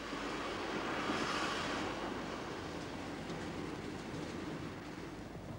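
A locomotive idles and moves at a German railway station platform in 1973, giving a steady, dense rumble with faint rail noise that swells briefly and then settles, with no voices.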